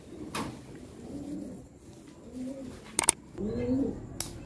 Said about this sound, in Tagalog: So, ito yung ibon, guys. Yan yung pinakamismong ibon.